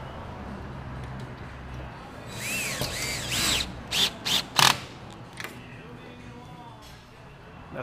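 A cordless lithium-battery drill drives bolts on an enclosed work trailer in short, sharp bursts of whirring and ratcheting at mid-distance, over a low background hum.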